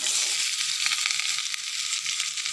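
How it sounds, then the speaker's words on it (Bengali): Potato pieces fry in hot oil in a wok, giving a steady, loud, hissing sizzle with faint crackles throughout and no voices. "কত সুন্দর ভাজা ভাজা হচ্ছে আলুগুলো"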